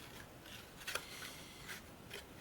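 Scissors trimming paper for a handmade craft box, with a few faint, quiet snips spread over a low background hiss.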